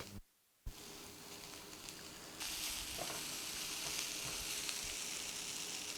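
Boiled noodles sizzle and fry in a hot pan as they are stirred in, a steady close crackle that starts after a brief dropout and grows louder and denser midway.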